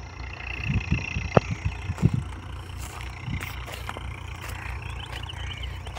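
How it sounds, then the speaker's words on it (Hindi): A Farmtrac 60 tractor runs with a 10 ft rotavator in a field, its low engine drone steady throughout, with a few louder knocks and clanks in the first couple of seconds. "यह ट्रैक्टर चल रहा है।"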